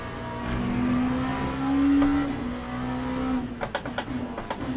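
A race car engine in Le Mans Ultimate revs and holds a loud, close drone, rising and settling, then breaks into quick gear-shift pulses and clicks near the end.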